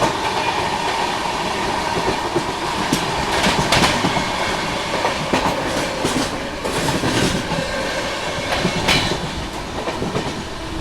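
The Brahmaputra Mail express passes close by, a loud continuous rumble with rhythmic clickety-clack of wheels over rail joints and occasional sharp clanks, no voices.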